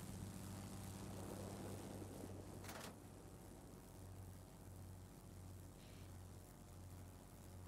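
Propeller fighter plane droning in a combat flight game, a loud steady engine hum with a pulsing low throb, a brief whoosh passing midway and the level dropping slightly after, no speech.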